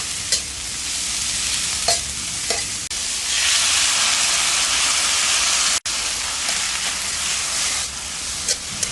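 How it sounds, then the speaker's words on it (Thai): Chayote squash stir-frying in a pan after water is added, giving a continuous loud hiss and sizzle of steam with occasional scraping clicks of the spatula, no voices. "เราต้องผัดไปก่อนค่ะ เพื่อที่จะสุกได้ง่ายยิ่งขึ้น เราก็จะใส่เป็นน้ำเปล่าลงไปค่ะ"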